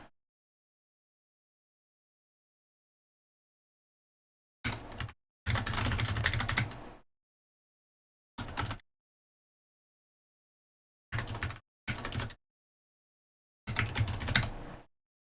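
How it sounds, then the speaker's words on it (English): Bursts of rapid clicking on a computer keyboard while coding a Discord.JS bot, with six separate typing runs of one to two seconds each, separated by silent pauses, close and fairly loud. "I'm so sick and tired of just typing this over and over again."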